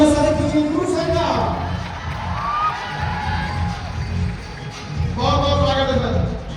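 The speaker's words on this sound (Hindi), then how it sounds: "जोरदार तालियों से स्वागत कीजिए गुरु सर का।" An audience at a large live student seminar in Patna, cheering and clapping to welcome a teacher, a steady crowd roar rising and falling under an announcer's amplified voice.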